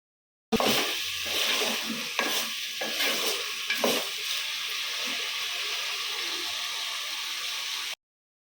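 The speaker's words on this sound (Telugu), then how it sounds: "ఇంకా కొంచెం సగం అన్నం వేసి సగంలో కొంచెం సాల్ట్ కలిపేస్తాను" Salt is stirred into cooked rice in a pot for sambar rice, a continuous close scraping and swishing with soft sizzle-like texture and a few sharper spoon knocks early on, no talking.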